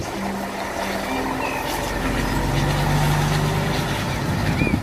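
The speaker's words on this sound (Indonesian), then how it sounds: "Yang ini ada mobil truk molen besar" A large concrete mixer truck rumbles through steady traffic, its deep engine drone continuous and fairly loud, with other vehicles passing nearby and a brief air-brake hiss.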